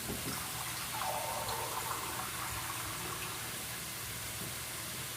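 Water poured from a cup into a cooking pot of galunggong adobo with bay leaves, a steady splashing gush that lasts several seconds, close and fairly loud.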